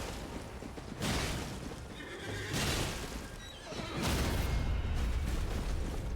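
A horse ridden by a mounted enemy in Elden Ring, around Liurnia, neighs in several loud whinnying bursts spaced a second or two apart, with no talk over it.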